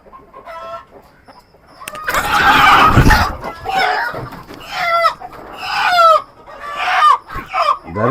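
Country and crossbred chickens on a rooftop poultry farm cluck and squawk close by in loud, uneven bursts, with a noisy scuffle and flapping in the middle and repeated sharp calls after.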